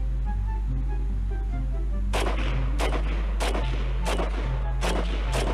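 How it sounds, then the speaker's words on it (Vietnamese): A rapid series of sharp, loud gunshots from a real-life version of the Free Fire game's Ska gun blasts through wooden boards, coming in an uneven burst of roughly six reports over a constant low hum. "Cái này là một màn test bắn xuyên gỗ với Ska"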